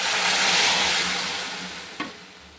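Leafy greens fry in a pan with onion and garlic, a loud continuous sizzle that slowly fades, broken near the end by one brief sharp clatter.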